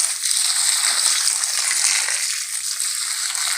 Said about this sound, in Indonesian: Ini semua saya siram pakai air beras.